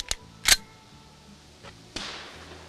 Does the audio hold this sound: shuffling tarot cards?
no